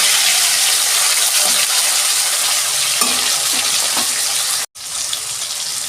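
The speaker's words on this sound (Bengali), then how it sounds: "এরকম করে সব মাছগুলো ভেজে নেব" Katla fish sizzles loudly in hot oil in a pan, a continuous close crackling hiss with a few soft knocks from turning the pieces and a brief silent break near the end.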